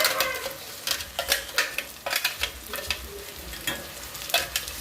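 Ground masala sautéing in oil with onion and capsicum, a continuous sizzle broken by repeated rhythmic scrapes and clinks of a spatula stirring in the pan, close and moderately loud with no talk.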